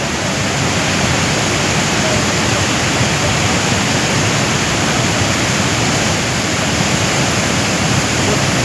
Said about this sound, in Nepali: यत्रो चाहिँ भइरहेको छ खोला चाहिँ